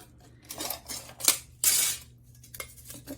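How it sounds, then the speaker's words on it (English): Regular scissors snip through a thin metal tin can in a few sharp, crunchy cuts, close by, with small metallic scrapes between them. "And cutting it out, I'm just using regular old scissors."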